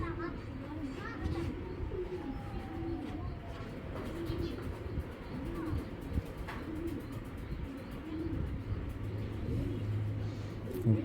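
A silver Bezi breed male pigeon coos in soft, repeated throaty rolls near at hand, with faint chirps and distant traffic in the background.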